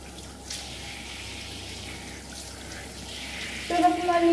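A tap runs steadily while a dog is being bathed, a soft continuous wash of water with a brief clatter near the end and faint voices in the background.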